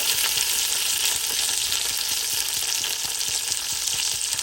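Tomatoes fry in a pan for a Fiji-style lamb shank pilau, a loud, continuous hissing sizzle with faint stirring scrapes and no voices.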